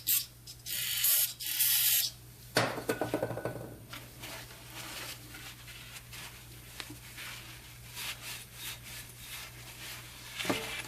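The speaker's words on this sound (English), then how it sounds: "And we'll also brake clean the threads in the case." Brake cleaner sprayed from an aerosol can onto the threads of an engine case, several loud close hissing bursts in the first few seconds, then quieter rubbing and scraping on metal.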